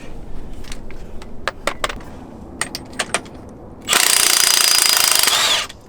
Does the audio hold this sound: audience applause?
no